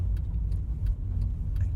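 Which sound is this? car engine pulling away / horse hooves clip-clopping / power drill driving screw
car engine pulling away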